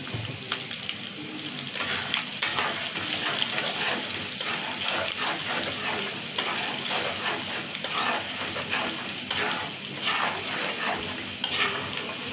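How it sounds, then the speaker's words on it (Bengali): Spice masala for a chana dal cooked with beef fat, sizzling steadily in a pan with frequent scraping and stirring from a utensil, close and continuous. "আমি মশলাটা ভালো করে কষিয়ে নেব"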